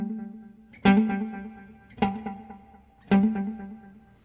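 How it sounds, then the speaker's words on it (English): A guitar through a Red Witch Titan analog delay pedal, set to a fairly short delay with medium feedback, rings out three times, each strike trailing into several soft, darker echoing repeats that fade gently before the next note. "dark, juicy repeats to it, typical of an analog delay"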